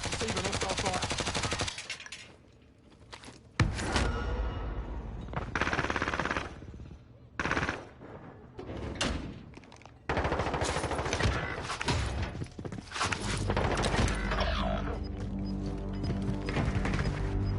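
Machine-gun bursts and rapid gunfire rattle in a military video game, loud and repeated with brief gaps, while radio-style voices call out between volleys.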